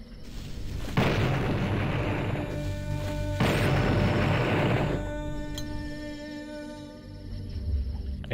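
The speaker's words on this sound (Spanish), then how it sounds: "Estoy matando ratas a cañonazos." Two heavy booming cannon blasts, fired at rats in the 1997 MS-DOS game Blood, roughly two seconds apart, each followed by a long rumbling tail, over a steady game drone with faint tonal hum.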